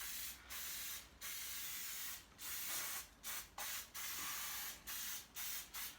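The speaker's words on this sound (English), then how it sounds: "give it a good squirt everywhere" Cooking spray squirts onto a baking pan in a series of close hissing bursts, some long and some quick, separated by short gaps.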